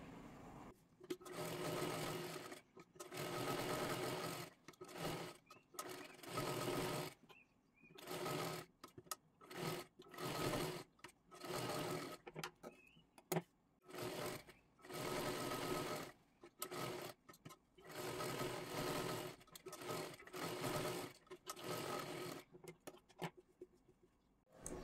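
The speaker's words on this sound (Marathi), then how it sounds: "आता व्यवस्थित हे शिलाई करून घेऊन" A sewing machine stitches the lining of a princess-cut blouse in many short, fairly quiet bursts, stopping and starting again and again with brief gaps of near silence.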